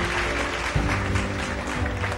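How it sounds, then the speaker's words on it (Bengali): An audience at an award ceremony claps loudly and continuously, a thick, even wash of applause with no pause. "একটা জোরে হাততালি"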